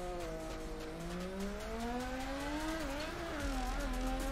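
A Mazda FC RX-7 in Torque Drift holds a loud, close engine note that climbs steadily in pitch under acceleration, with a brief wobble and tire squeal as it slides, then a deeper rumble at the end.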